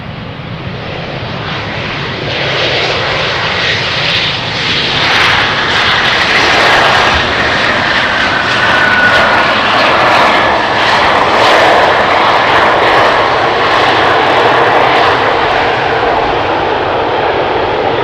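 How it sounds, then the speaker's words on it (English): KLM Boeing 737 airliners arrive at Amsterdam Schiphol on runway 18R, a loud, steady jet engine roar filling the whole stretch, swelling slightly as the aircraft pass close by, with no voices. "Two 737s coming up from KLM, and then the 777 is going to come next."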